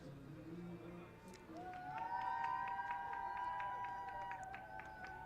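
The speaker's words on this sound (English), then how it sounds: "Bomber crowd giving some love to their offense" A home crowd at a college baseball game between Ithaca and Vassar applauds and cheers in a loose, moderately distant wash. Scattered claps and a few whistles sound under an announcer's steady commentary.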